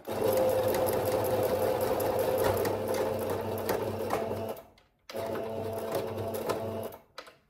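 A sewing machine runs close up, stitching at the belt loop of a pair of denim shorts, with a steady motor whir and rapid needle rhythm that stops briefly, restarts, then halts again near the end.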